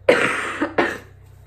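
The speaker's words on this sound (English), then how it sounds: "I apologize for my coughing" Two harsh coughs in quick succession, close and loud, followed by quiet.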